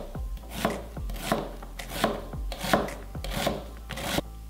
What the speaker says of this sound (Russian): У меня здесь 4 лука. И нарезаем все